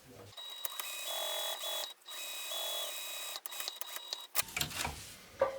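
A sewing machine stitches a seam on a fabric organizer, a steady mechanical whir running for several seconds in two long bursts with a brief pause between them, then some handling noise at the end.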